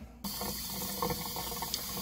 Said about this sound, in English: I'm going to rinse out this pot and put boiling water in there